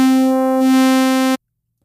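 A synthesizer note passed through sine shaper distortion rings out as a bright, harmonically rich sustained tone, loud and steady for just over a second, then stops sharply into silence.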